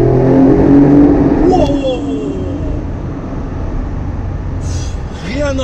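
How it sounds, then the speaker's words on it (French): A Mercedes S63 AMG Coupe with an Akrapovic exhaust, valves open, downshifting to second with a loud throaty engine note that drops and rises, with someone talking over it. "Cette fois-ci, on a ouvert les valves. On rétrograde, deuxième."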